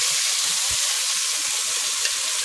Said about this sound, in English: you're just browning it just to get that nice caramelization on both sides